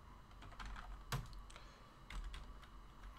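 Quick, light clicking of keys on a computer keyboard comes in irregular bursts, faint and close, with no voice over it.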